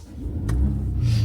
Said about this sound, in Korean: 초기 시동 시에 직렬 4기통 터보 엔진은 조금 괄괄한 느낌이 듭니다.